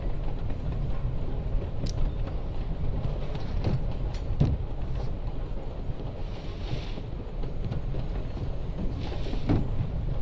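Steady rumbling interior ambience of a moving train in the game Life is Strange: Before the Storm, a low continuous rattle and hum with occasional faint clicks and knocks, no voices.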